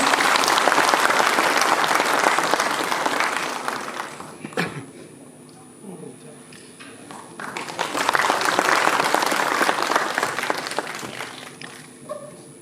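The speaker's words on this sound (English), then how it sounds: "I request everyone to please give a big round of applause." Audience applause at a National Voters' Day award presentation ceremony in Manipur, with two dense waves of clapping and a thinner lull of scattered claps between them; brief voices can be heard in the pause.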